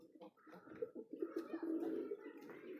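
Pigeons kept at home coo in low, rolling, throaty bursts close by. The cooing repeats and overlaps through the whole stretch with faint background noise.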